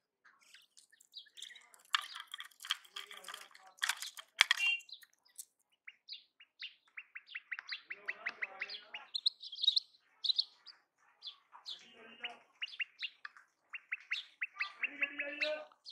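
Female hybrid quail calling on its own, a run of bright, rapid chirping trills and tweets repeated in bursts, close and fairly loud, with brief pauses between calls.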